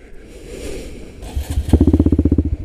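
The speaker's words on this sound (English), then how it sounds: "let's start the GROM." A Honda Grom motorcycle engine cranks and fires up close by, catching after a short rumble and settling into a rapid, loud, pulsing idle.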